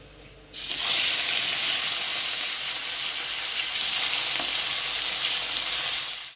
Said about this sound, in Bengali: দিয়ে এবার বাদ বাকি মাছটা কড়াইতে দিয়ে দেবো।